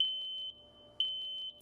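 A home carbon monoxide detector sounds a loud, shrill alarm: a run of four quick beeps, a brief pause, then the same four-beep pattern again.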